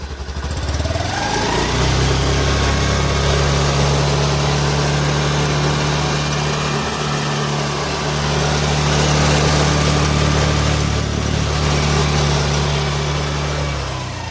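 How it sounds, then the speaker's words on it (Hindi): A Honda Activa 125 scooter engine revs up quickly and then holds a high, steady drone. The motor is loud and close, with no talking. "अब हम इसको एक्सीलेट करके देखेंगे।"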